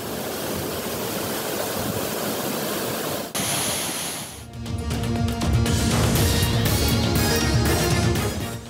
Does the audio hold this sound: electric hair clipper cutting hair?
no